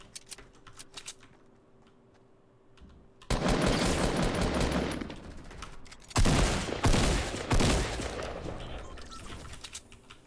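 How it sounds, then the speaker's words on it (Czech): Rapid tactical shotgun gunfire in the video game Fortnite, dense overlapping volleys of shots in two loud bursts separated by a brief pause, following a quieter stretch of faint game sounds. "Proč jsi střílela jenom taktikálku?"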